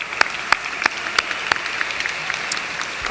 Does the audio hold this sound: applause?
yes